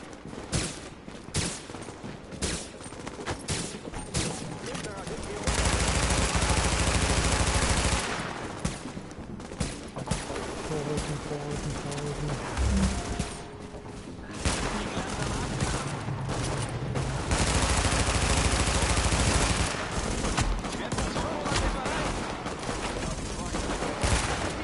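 Heavy automatic gunfire rips at a patrol in The Division video game, coming in long loud bursts and rapid volleys with short lulls between them, while a voice talks at times.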